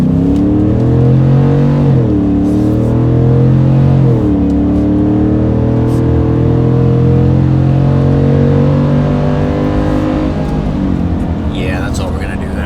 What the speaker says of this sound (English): it sounds just like a big V8 should. And speaking of how it should, let's give her a listen wide open